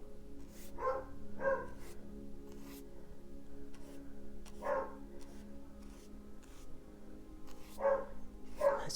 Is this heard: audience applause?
no